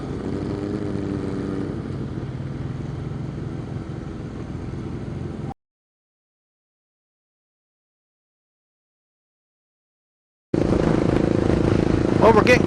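Cafe racer motorcycles riding together in a group, a loud steady engine drone with wind noise that cuts out to silence partway through, then returns.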